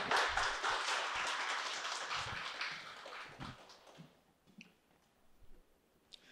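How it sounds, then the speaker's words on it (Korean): Audience applause at an in-person police exam prep information session, a broad burst of clapping that fades over about four seconds, leaving sparse scattered claps and faint room sounds. "박수로 맞아주세요."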